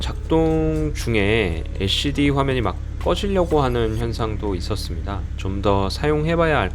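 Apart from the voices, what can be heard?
None of the usual background noises is heard.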